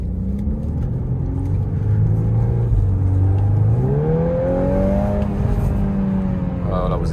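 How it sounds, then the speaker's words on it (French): Volkswagen Golf 8 R with an Akrapovic exhaust in sport mode, its engine revving and rising in pitch around 3500 rpm, with only faint pops in a loud continuous drone. "Oh, petite pétarade. À 3500 tours, vous avez le pop and bang."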